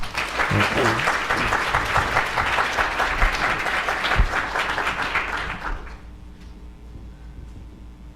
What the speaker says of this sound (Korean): 나오실 때 우리 박수로 한번 환영하시겠습니다.